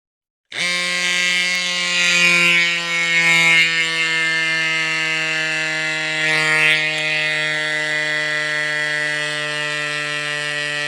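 A CYCPLUS AS2 Pro electric mini pump starts abruptly and runs with a steady, high-pitched whining buzz while inflating a gravel bike tire on 27 mm rims to 30 psi, with the tone straining slightly as pressure builds.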